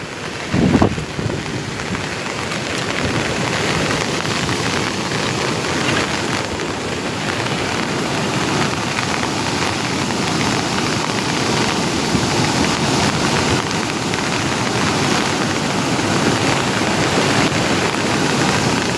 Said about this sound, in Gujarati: જોરદાર પાણી આવી ગયું છે જોઈ શકો છો તમે ફૂલ વરસાદો